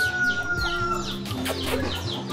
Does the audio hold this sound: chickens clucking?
yes